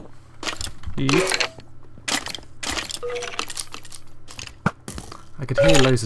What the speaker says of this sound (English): I could hear loads of skeletons back here.